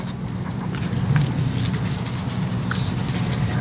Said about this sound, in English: she says it's starting to rain